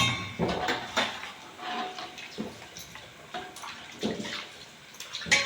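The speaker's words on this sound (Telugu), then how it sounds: "అందులో వేగానే సౌండ్ ఎలా వస్తుందో, అంటే అక్కడే మనకి ఎంత క్రిస్పీగా వచ్చిందనేది తెలిసిపోతుంది" A large batch of gobi 65 cauliflower deep-fries crisply in hot oil with a rough, bubbling sizzle, broken by repeated clinks and scrapes of a metal ladle against the pan.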